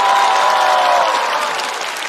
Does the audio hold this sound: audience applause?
yes